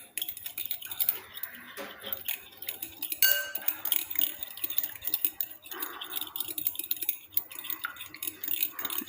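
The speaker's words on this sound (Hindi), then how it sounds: "इसको अच्छे से मिक्स कर लेंगे।" Crushed garlic being mixed into a chicken marinade in a bowl, heard as light, irregular clinks and ticks of a utensil against the bowl with soft scraping throughout, close by and with no talking.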